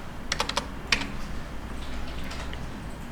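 A handful of quick computer keyboard keystrokes enter title text in video editing software, then the room falls quiet. The clicks come in a short burst, close and fairly crisp over a low background hum.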